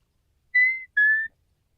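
In a nighttime fishing video game, a bird gives two clear, pure whistled notes in quick succession, the second slightly lower, against silence.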